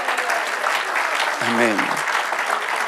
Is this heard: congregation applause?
yes